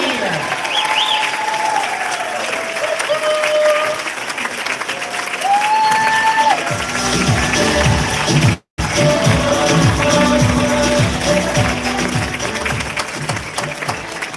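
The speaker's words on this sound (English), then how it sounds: "Big round of applause." Crowd at a dance show bursts into loud applause and cheering, with whoops and shouts over the clapping and a brief dropout midway before the noise resumes.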